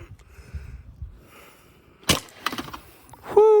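A sharp, loud crack as a pellet from a modified First Strike FSC air rifle at 161 joules shatters a target, followed by brief splintering rattles, then a short vocal sound.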